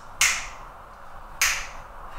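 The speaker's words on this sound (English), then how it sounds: "We can click the fingers." Two crisp finger clicks from one hand, spaced just over a second apart, each sharp snap trailing off briefly into a quiet room.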